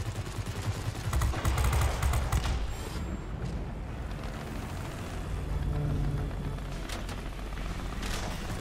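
Gunfire from warplanes in World of Warplanes, dense rattling machine-gun bursts over a constant loud engine roar, with no talk.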